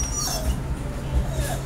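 A small Basset hound whimpers softly indoors, its faint whines and yips sitting under steady low room noise.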